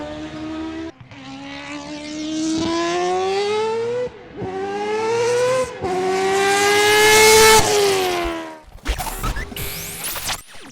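A racing car engine revs hard in long rising and falling sweeps, loud and close, with brief pauses between bursts and a sharp crackling finish.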